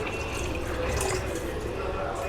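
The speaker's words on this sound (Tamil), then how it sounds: "இப்போ என்ன பண்ணுறோம், 1/4 லிட்டர் தண்ணி ஊற்றுறோம்" Water pours into a pot of mutton and macaroni, a steady close splashing and filling sound that runs unbroken for a couple of seconds.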